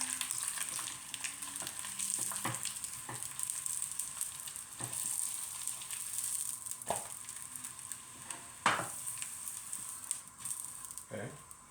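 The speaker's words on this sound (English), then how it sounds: "we're just gonna warm up our tortilla a little bit" Tortilla warming in an oiled pan over a gas flame, a steady soft sizzle running throughout with occasional clacks and scrapes of handling.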